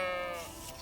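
A sheep in Kingdom Come: Deliverance 2 lets out a single drawn-out, wavering bleat that sounds close and fairly loud, with no talk over it.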